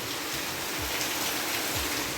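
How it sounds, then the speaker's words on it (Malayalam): Heavy rain pours down outside as a dense, steady hiss that continues unbroken with no voices. "പുറത്ത് നല്ല മഴയാണ്."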